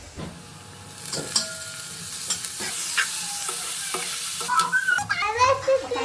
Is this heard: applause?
no